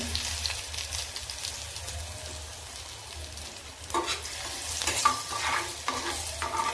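Pieces stir-fried with turmeric and salt for a sprouted moth bean dish make a dense close sizzle, with stirring scrapes that grow busier and louder toward the end, no talking over it.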